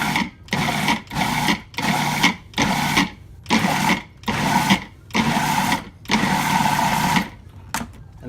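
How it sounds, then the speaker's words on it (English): A food processor pulses tomatoes in about nine short, loud whirring bursts separated by brief pauses, with a final tiny burst at the end and no talking. "the food processor makes this really easy. So I'm going to pulse it"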